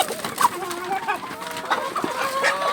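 Several chickens cluck and murmur close by in a steady, busy stream, with a few sharper calls rising above the flock.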